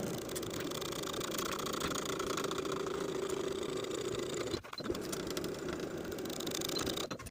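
Sewing machine stitching the side seams of a skirt with a 5/8 inch seam allowance, a steady continuous whir that holds for about four and a half seconds, pauses for a moment, then resumes.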